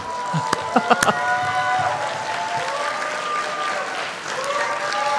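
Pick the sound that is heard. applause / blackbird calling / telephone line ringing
applause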